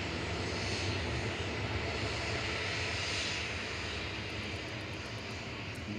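Ryanair jet departing Manchester Airport for Rome, a broad, steady engine roar holding loud and even throughout, with no voices.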